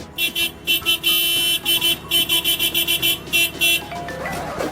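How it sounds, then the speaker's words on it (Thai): The horn of a Komatsu PC200CE 20-ton excavator with a four-cylinder engine honks in a rapid series of short, loud beeps, with a few longer blasts mixed in, close and insistent. "บีบแตรให้ดูหน่อย"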